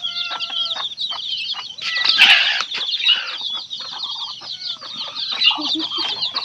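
Hens cluck repeatedly and busily in a farmyard during a chicken-catching contest, the calls overlapping in a near, steady stream, with a brief burst of louder squawking and wing flapping partway through.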